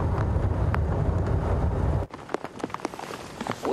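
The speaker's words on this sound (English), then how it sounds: "This rain is starting to come down." Rain falling on an open safari vehicle during a morning game drive, first a dense steady patter, then lighter, scattered drops tapping close by, with no talking.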